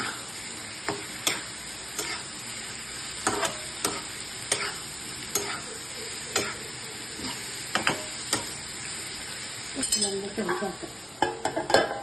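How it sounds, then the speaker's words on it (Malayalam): A spoon stirs grated coconut in a hot cooking pan, giving repeated sharp scraping clicks at an irregular rhythm over a soft, steady sizzle, close and fairly quiet. "എന്നിട്ട് തേങ്ങ ഇതിലേക്ക് മിക്സ് ചെയ്ത് നന്നായിട്ട് ഇളക്കി കൊടുക്കാം."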